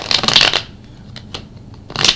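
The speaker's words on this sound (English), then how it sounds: "I'm going to pull an oracle card from my Isis Oracle, and then got 2 shuffles left." Tarot and oracle cards are shuffled by hand in two quick riffling bursts separated by a pause with light handling noise, close and crisp.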